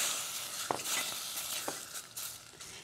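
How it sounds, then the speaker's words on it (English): Artichoke sautéing in a pan with onions and garlic gives a steady, close sizzle with a couple of soft stirring scrapes and no talk. "Hear that sizzle?"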